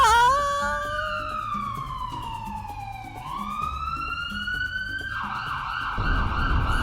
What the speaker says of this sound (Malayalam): ആംബുലൻസ് ആയിരുന്നു.